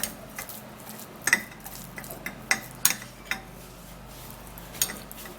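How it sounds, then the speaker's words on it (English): Spoon clinking and scraping against a pot while a shea butter mixture is stirred, a handful of sharp metallic ticks spread irregularly over a quiet, low background with no talking. "So I'll just continue stirring"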